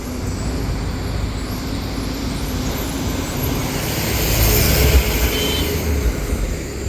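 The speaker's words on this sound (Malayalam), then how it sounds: "ഇന്ന് അത്യാവശ്യം നല്ല വണ്ടികൾ വരുന്നുണ്ട്" Vehicles pass on a Wayanad ghat road in Kerala, a steady broadband roar of engines and tyres that swells slightly toward the middle of the stretch, with no voices.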